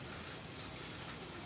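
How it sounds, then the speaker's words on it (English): Steady rain falls on a vegetable garden after a big storm, a dense even hiss of drops hitting the ground and leaves. "Oh, the rain slowed down."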